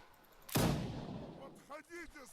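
A single loud musket shot in Mount & Blade Warband's Napoleonic Wars multiplayer battle, a sharp crack with a long rumbling tail, followed by a voice talking.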